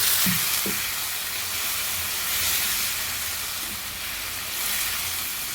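Spice paste of turmeric, salt, chilli and coriander powder hisses and sizzles steadily in a pan after a splash of water, with a few soft knocks near the start, for a Bengali winter-vegetable tilapia curry.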